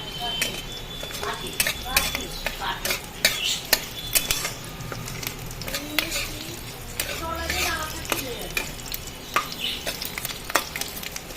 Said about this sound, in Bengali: রসুনটা একটু ভালো করে ভেজে নেবো